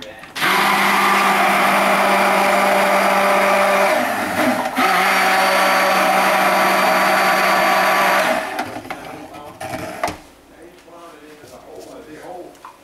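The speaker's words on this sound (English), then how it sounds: "I'm going to blend that to thick trace" A stick blender whirs loudly and steadily through soap batter made with coconut milk, yogurt and oatmeal, briefly dipping near the middle before cutting off, with quieter handling sounds afterward.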